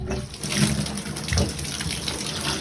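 Water gushing and spraying from a Delta shower valve with the cartridge pulled out, a loud continuous rushing splash with slight surges, heard up close.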